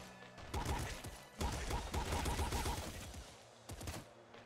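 The pop gun in the video game Nuclear Throne fires in quick bursts of sharp, rapid shots, three clustered volleys of close, loud popping with brief pauses between them.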